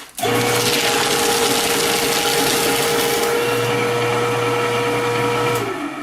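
A Fellowes Powershred 225Ci crosscut paper shredder's motor roars loudly and steadily for several seconds as it grinds through a stack of sheets, then begins to wind down.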